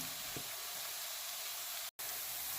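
Chopped onions sautéing in a pan for spicy Tamil-style fish puttu give off a steady, close sizzle with a soft hiss throughout, broken by one very short silent gap.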